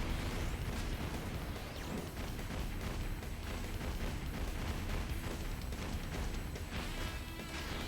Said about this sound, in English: can I play this safe without dying from explosions?